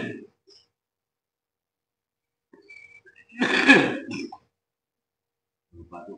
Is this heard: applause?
no